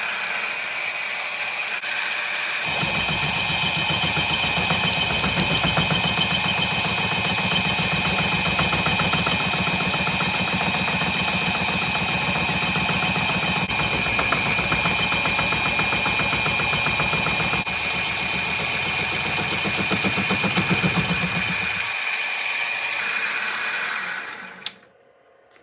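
A homemade 3D pantograph carving machine spins at about 350 to 400 RPM, giving off a continuous mechanical whirring hum with a steady rattle as it runs slightly out of balance, then winds down and stops near the end.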